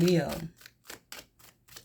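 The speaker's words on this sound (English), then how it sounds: "Do some good shuffles in Leo." A voice briefly, then a series of soft, crisp tarot-card shuffling riffles repeating in a quick, even rhythm, close and fairly quiet.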